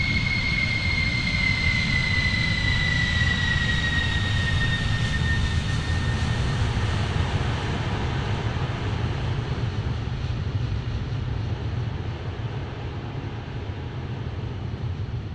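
Boeing 747-400 jet engines in the X-Plane 12 flight simulator hold a steady, loud drone, with a high whine that slowly drops in pitch and fades over about fifteen seconds.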